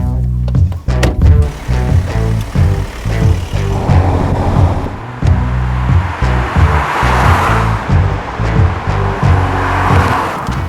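A Volkswagen Golf VI GTD with a DSG gearbox drives a winding route, its engine droning steadily with rising and falling revs and brief shifts, plus rushing wind and road noise building toward the middle.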